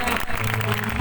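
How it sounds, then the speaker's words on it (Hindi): A church congregation claps together during worship, a dense, continuous wash of applause that fills the space, with voices mixed in underneath. "आंखें बंद करके ताली बजाते हैं।"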